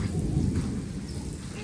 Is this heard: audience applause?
no